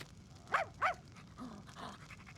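A ninja dog named Semimaru in Tenchu 2 gives two short, sharp barks close together, then a few softer whimpering yelps follow over a quiet background.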